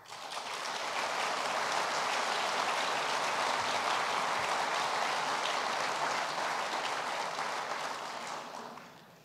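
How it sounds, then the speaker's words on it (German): Sustained audience applause at a craftsmen's master diploma ceremony, a dense, even roar of many hands that swells in, holds steady for several seconds and fades away at the end. "das ist Ihr Applaus"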